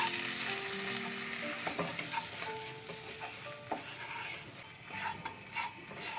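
A white sauce of butter and flour is stirred in a pan for spaghetti, giving a soft, steady sizzle with repeated scraping strokes of a spoon against the pan. It sounds close and moderately quiet, with no talking.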